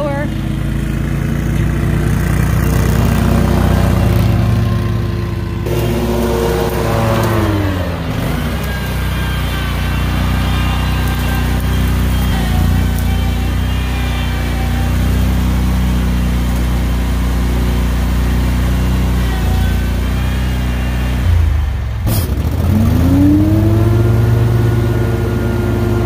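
A running lawn mower engine drones loudly and steadily near the microphone, its pitch dipping and rising again at a couple of points as the load changes.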